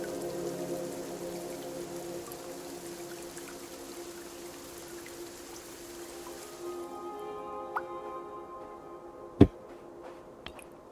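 Plants being watered in the game Cloud Gardens, with a soft steady pouring hiss under a gentle tonal backdrop that fades out, followed by a few faint isolated drips and one sharper click.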